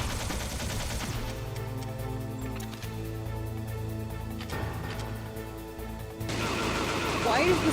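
Sharp gunshots from the video game Metal Gear Solid (the first game) crack a few times over a steady, droning musical backdrop, with a voice talking over the action.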